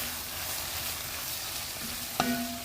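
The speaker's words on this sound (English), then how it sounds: "I'm just going to go ahead and continue to stir." Vegetables sizzle steadily in a hot pan while being stirred, with a soft constant frying hiss and one brief clink near the end.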